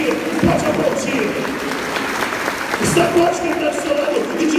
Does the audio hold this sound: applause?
yes